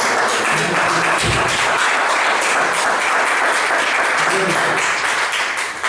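Sustained applause from a church congregation during a communion service, dense clapping continuing throughout at a steady, fairly loud level.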